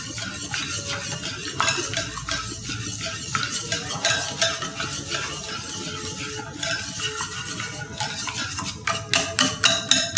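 Kumri batter being beaten by hand in a bowl, with a steady run of quick stirring and whisking clatter over faint frying sizzle from heating oil, the strokes growing sharper and more rhythmic near the end.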